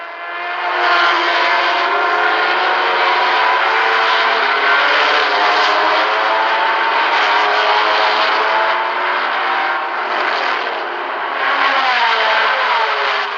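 Ferrari and Matra race cars at the 1973 Le Mans 24 Hours, a loud sustained engine roar with shifting pitch as the cars pass, heard for the whole stretch without talk.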